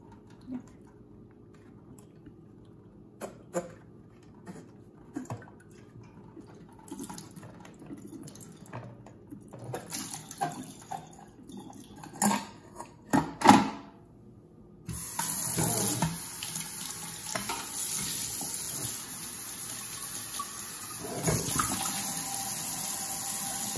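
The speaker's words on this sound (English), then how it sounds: "Before putting the food in the feeder, it's important to rinse it out." Tap water runs steadily while a hummingbird feeder is rinsed out with plain water, preceded by scattered handling knocks and clatter.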